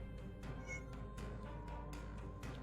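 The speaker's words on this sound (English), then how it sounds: "I heard a cat." A cat meows faintly in short repeated calls amid a steady background hum, with no talking.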